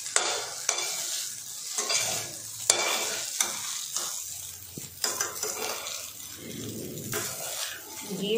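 Basmati rice frying over a high flame in a pan, a continuous close sizzle with brisk stirring, scraping and occasional clinks of utensil against metal, no talking.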